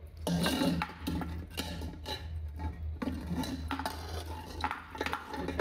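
Braised beef trotters are moved into a pressure cooker, producing faint clinks, scrapes and knocks of utensils against metal in a quiet, irregular sequence without speech.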